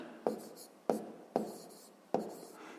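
Pen scratching numbers on paper while a sixth-grade math proportion problem is worked out, in several short strokes each starting with a sharp tap, close and clear with no speech over it.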